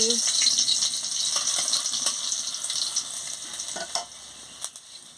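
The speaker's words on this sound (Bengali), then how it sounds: "তেল গরম হয়ে গেছে আমি শুকনো লঙ্কাটা দিয়ে দিচ্ছি" Dried red chillies hit hot oil in a pan and set off a loud, dense sizzle with scattered crackles. The hiss fades gradually, and a few sharper pops come near the end.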